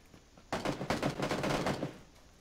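Rapid burst of shotgun fire in a video game, a dense string of loud, close blasts running for about a second and a half before cutting off.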